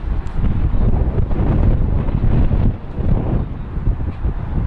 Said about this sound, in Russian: Да, хорошо, дождя нету, но сильный ветер.